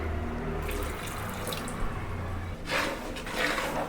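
Water is poured into a bowl of ground batter for aamboli, a steady splashing pour with a low rumble that shifts to a brighter, louder stream toward the end.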